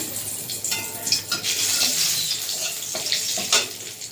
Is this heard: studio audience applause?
no